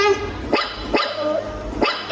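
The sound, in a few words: puppy barking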